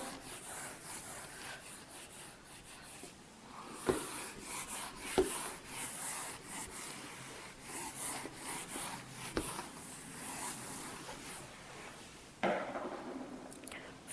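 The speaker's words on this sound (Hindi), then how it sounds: "इधर का मैं रब कर देती हूँ वर्किंग नोट।" Working notes are rubbed off a classroom board in steady scrubbing strokes, broken by a few sharp knocks, with no talk.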